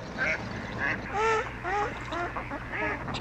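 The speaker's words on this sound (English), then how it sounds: "Probably the most common of all ducks in Arizona, the male mallard is easily recognized by its iridescent green head, yellow bill, and a white ring around its neck" A male mallard duck in Arizona calls with a series of close, clear, nasal quacks in short bursts, heard alone over a soft background.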